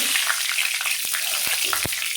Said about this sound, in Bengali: এখন সর্ষের তেল দিয়ে দেব কড়াইতে মাছ ভাজার জন্য